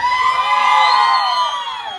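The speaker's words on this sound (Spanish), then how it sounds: "Un aplauso para la amiga de negro" A lively crowd cheers, whoops and claps for a girl at a festive gathering, a loud continuous wall of voices with shrill shouts rising throughout.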